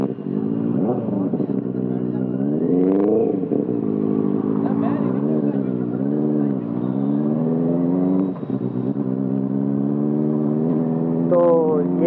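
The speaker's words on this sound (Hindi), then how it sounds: "ये जो आवाज़ सुन सकते हैं आप, एक्सेल का एग्जॉस्ट लगा हुआ है इसमें" Benelli 660i motorcycle fitted with an IXIL full-system exhaust, ridden on a wet, rain-soaked road; a steady engine drone rises and falls with throttle changes, with someone talking over it throughout.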